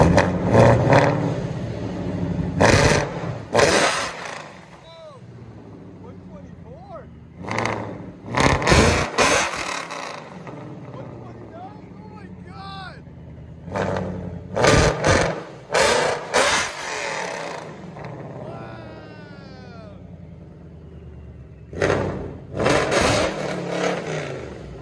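A Procharged Ford Mustang GT with a 5.0L V8, long-tube headers and Corsa exhaust revs in sharp, repeated bursts, loud and close, with quieter idle gaps between blips.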